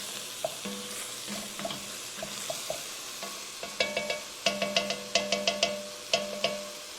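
Chili frying in a pot, a soft continuous sizzle broken by clanking spoon strokes against the pot's sides that come in quick repeated bursts, with no talking.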